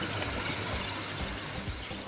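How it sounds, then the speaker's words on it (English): A splash of olive oil pours onto mashed celeriac in a home kitchen, a soft continuous liquid trickle lasting about two seconds, close and fairly quiet. "a splash of olive oil"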